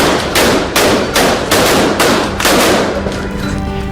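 Rapid series of loud explosive bangs from New Year street fireworks in Cali, Colombia, about six sharp bursts in quick succession, each trailing off into crackle, with a low hum underneath.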